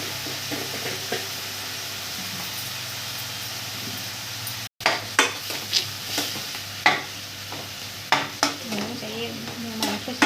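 Frying in a pan with salt and turmeric added, a steady sizzle with a brief cut near the middle, then sharp scraping stirs at irregular intervals, close and clear.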